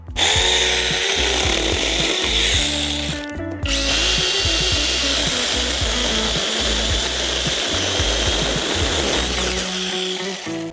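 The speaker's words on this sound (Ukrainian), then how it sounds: "давайте зараз порівняємо, яка пилка буде е, швидше різати" Cordless chainsaws, STARK BCS2115 and BCS21015, whine and buzz continuously while chewing through wood, loud and close, with a brief dip in the motor sound partway through.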